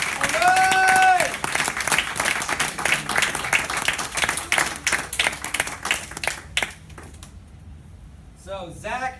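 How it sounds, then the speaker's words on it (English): An audience at a martial arts graduation in Columbia, Maryland claps in a dense burst of applause that rises quickly, holds steady and then thins out, with a voice briefly heard at the start and near the end. "Let's give him a big round of applause."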